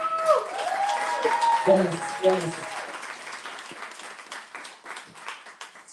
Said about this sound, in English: We want to give a round of applause to all of our awardees of the night.